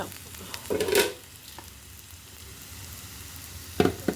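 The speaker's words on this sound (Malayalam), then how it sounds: "വെളുത്തുള്ളി, ഇഞ്ചി, മുളക് പൊടി, മഞ്ഞൾപ്പൊടി, ചെറിയ കുരുമുളക് പൊടി, ഇച്ചിരി മസാലപ്പൊടി, ഇതെല്ലാം കൂടെ എണ്ണയിൽ മൂപ്പിക്കുക." Garlic, ginger, chilli, turmeric, pepper and masala powders frying in oil: a soft steady sizzle runs throughout, broken by a few short scraping stirs near the start and end, close and fairly quiet.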